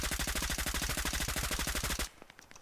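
Rapid automatic gunfire in the FPS game Operation Harsh Doorstop, a loud sustained burst of evenly spaced shots lasting about two seconds before stopping abruptly, followed by faint scattered noise.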